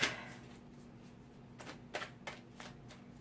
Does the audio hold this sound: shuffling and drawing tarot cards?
yes